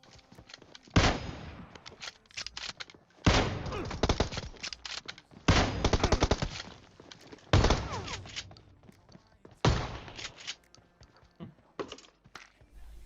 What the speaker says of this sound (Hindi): मैं गोली चला रहा हूँ कार 98 की दोबारा कवर में